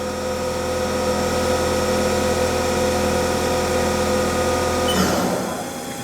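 Spindle of a Haas SL-10 CNC turning center spinning at 2500 RPM, a loud steady mechanical whine with layered tonal hum, then a brief clunk as it winds down at the end.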